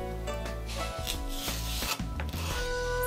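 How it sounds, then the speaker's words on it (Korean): A knife slicing green onion on a wooden board in quick, rasping strokes, close and clear, with no one talking. "쓱쓱 썰어줍니다."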